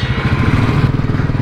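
A motorcycle engine drones loud and close while riding uphill on the Nandi Hills road, a steady pulsing beat throughout the short stretch.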